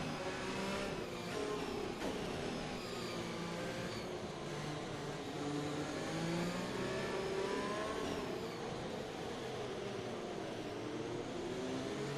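A Formula 1 car engine in the racing game F1 2021 revs steadily and climbs through the gears, a continuous high whining drone at moderate, fairly distant level.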